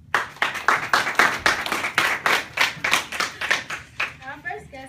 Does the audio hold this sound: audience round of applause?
yes